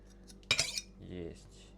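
Knife scraping salt off a chunk of salted pork fat (salo) taken from a jar: one short, sharp, close scrape lasting under half a second, followed by a fainter, softer rub, with quiet surroundings otherwise.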